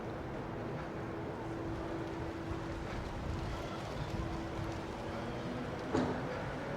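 Steady wind rushes and buffets across a small hotel pool area with an outside bar in Benidorm, a constant broadband roar, and a brief louder gust or thump near the end.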